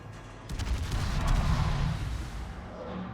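The battleship Irresistible's heavy guns boom in a rapid barrage in World of Warships, dense low rumbling blasts overlapping for several seconds, loud and continuous.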